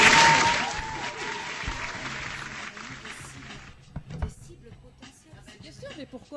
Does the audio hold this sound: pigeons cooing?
no